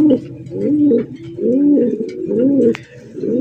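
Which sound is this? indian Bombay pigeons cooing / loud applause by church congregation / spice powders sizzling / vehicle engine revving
indian Bombay pigeons cooing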